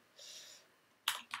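A few soft keyboard keystrokes and clicks, quiet and close, in a brief burst with short gaps.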